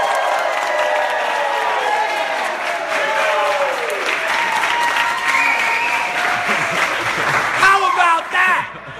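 Studio audience at a live motivational talk show bursts into sustained applause and cheering, a dense wash of clapping that stays loud and steady throughout, with scattered voices and whoops mixed in near the end.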